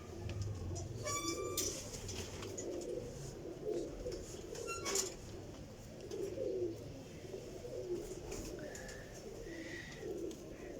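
Pigeons coo softly in repeated low, throaty phrases, with some faint chirps from other birds and light background noise around a pigeon keeper's loft.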